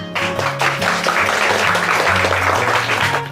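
Applause from a group of people, with steady clapping and a busy, slightly muffled texture running throughout.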